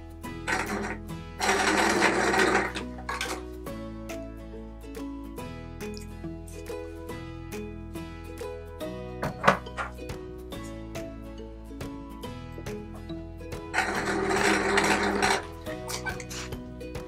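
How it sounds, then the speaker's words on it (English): A sewing machine stitches a lemon-spot cotton triangle onto a teal gingham rectangle for a patchwork quilt patch, with two loud, fast bursts of stitching separated by quieter, slower clicking of the mechanism, heard close and mostly alone. "I'm now going to stitch our lemon spot small triangle onto our teal gingham rectangle."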